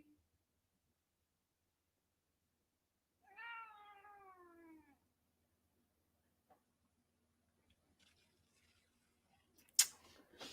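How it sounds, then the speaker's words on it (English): A single drawn-out cat meow rises clearly out of near silence, followed by a few faint ticks and a brief sharp click near the end. "These cats."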